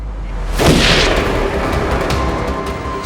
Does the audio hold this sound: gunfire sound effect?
yes